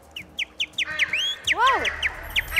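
A person imitates bird chirps with a quick run of short, high whistled tweets. The tweets come in a steady rhythm, and a few swooping, warbling calls are mixed in.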